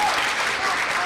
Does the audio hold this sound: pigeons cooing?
no